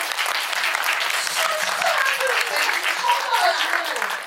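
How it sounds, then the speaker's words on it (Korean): Audience at a cinema talk event bursts into sustained applause, a dense, even patter of many hands clapping with faint voices underneath. "손동작 넣으셨으면 박수 한번"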